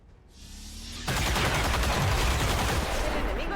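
Sustained burst of gunfire from a squad weapon in the tactical strategy game XCOM 2, loud dense rattling shots erupting after a brief quiet buildup and continuing without pause.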